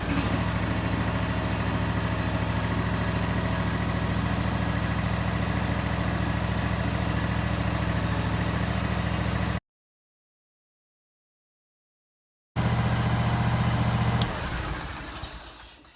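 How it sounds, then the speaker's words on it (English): A small zero-turn mower engine, started cold on choke, idles loudly and steadily, cuts out abruptly into silence, then runs again briefly before winding down. "Choke up with the cold engine and start"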